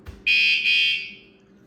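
A single loud electronic alarm tone blares for about a second after a soft click, then fades out. It is an aftermarket alarm on a 2021 Yamaha Tracer 9 GT motorcycle.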